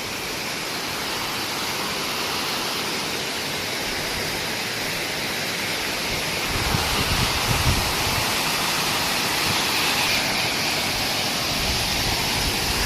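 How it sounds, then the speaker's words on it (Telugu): Tirathgarh waterfall in the Chhattisgarh forest roars as a dense, constant wash of falling water, loud and unbroken for the whole stretch with no voices over it. "చూడండి వాటర్ ఫాల్ వ్యూ చూడండి ఫ్రెండ్స్."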